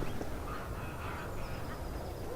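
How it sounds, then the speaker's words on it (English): Faint, distant ducks quacking and honking over a wide outdoor background rumble, the calls scattered and hard to pick out. "That does sound like ducks, doesn't it?"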